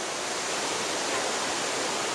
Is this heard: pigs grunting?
no